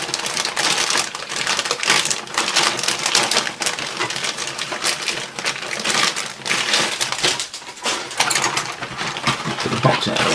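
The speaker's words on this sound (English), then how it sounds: "Just get my knife. Just cut into here." A hobby knife slices into the cardboard of an Italeri Panzer IV Ausf. H 1:35 model kit box, giving a dense, continuous scratchy crackle of cutting and crinkling close by for about ten seconds.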